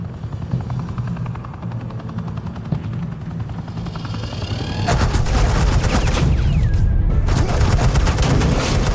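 Rapid video game gunfire, a continuous loud burst of shots with a helicopter-like drone beneath, starting mid-clip and running to the end with a brief gap.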